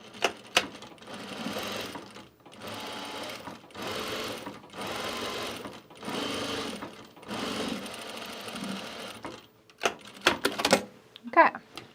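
A sewing machine stitches a garment duffle bag in several bursts of rapid mechanical running, each a second or so long with short pauses between, loud and close, followed by a few clicks and handling noises at the end.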